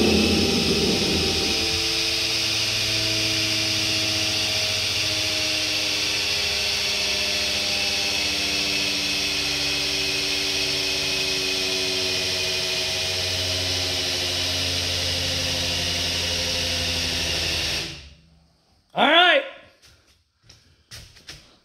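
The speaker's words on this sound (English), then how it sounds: "I'm going to crank the drill up." A drill cranks an engine's oil pump to build oil pressure, a loud, steady mechanical whine with a rumbling drone running continuously for about seventeen seconds, then cutting off abruptly, followed by brief faint clatter.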